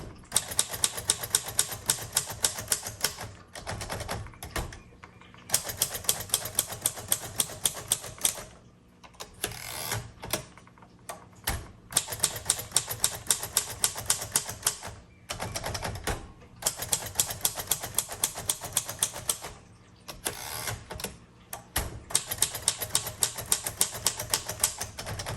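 Rapid typing on a 1935 Royal Model O manual typewriter with glass keys, crisp key strikes in fast bursts separated by short pauses and carriage movements, close and loud with no voices.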